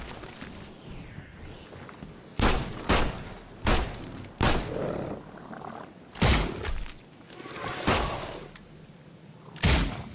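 Gunfire in The Sinking City video game: a series of sharp, loud shots and booms spaced irregularly over several seconds, with quieter game ambience between them.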